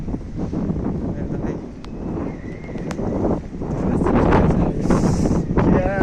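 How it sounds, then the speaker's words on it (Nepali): Steady wind rushes and buffets the microphone outdoors in Bulgaria, rumbling low throughout and growing stronger toward the end, with faint voices underneath. "हावा चल्यो कि आज त"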